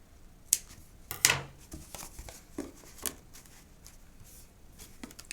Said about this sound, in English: If you have any other little pieces hanging out, feel free to trim those off.